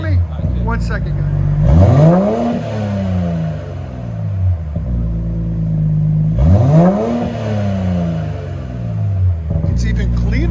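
BMW X5 M40i with a 3.0L engine and aftermarket exhaust in sport mode, revved twice while stationary: each rev climbs sharply then falls back to a deep burbling idle, close and loud, with people talking over it.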